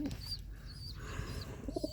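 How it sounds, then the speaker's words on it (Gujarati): Pigeons outdoors give soft, low cooing calls, faint and somewhat distant, over a quiet ambient background for about two seconds. "જો મિત્રો બહાર કબૂતરા છે મિત્રો."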